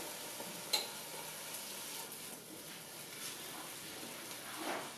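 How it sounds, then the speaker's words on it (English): Food sizzles steadily in a hot pan, a soft continuous crackling hiss with a small pop near the start and faint stirring. "now this is sizzling nicely"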